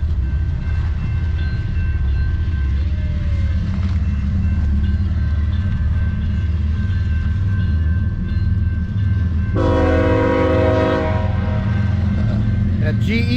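A BNSF freight train led by a GE locomotive pulls up close by with a deep, steady engine rumble and rolling wheel noise, and a loud horn blast sounds about two-thirds of the way through.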